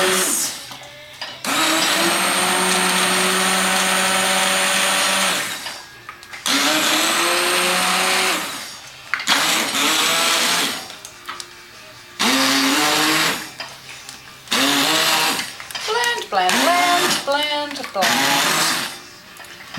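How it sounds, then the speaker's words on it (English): An immersion blender whirs loudly in bursts, running for several seconds at a time with pauses, the pitch shifting as it churns carrot and coriander soup; some talking between bursts. "You submerge the blender deep in the liquid and you get blending."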